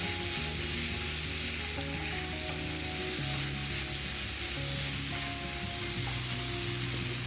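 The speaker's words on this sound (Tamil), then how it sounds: "கேப்சிகம் சேர்த்துட்டு நல்லா ஒரு வாட்டி கலந்து விட்டுட்டு" Capsicum and potato sizzle as they are stirred and fried in a pan, a continuous dense hiss with a low steady hum underneath, even in loudness and without speech.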